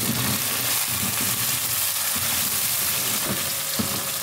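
Chicken pieces browning with onions in a hot pan, a continuous loud sizzle and crackle of frying oil with occasional stirring scrapes, close up and uninterrupted.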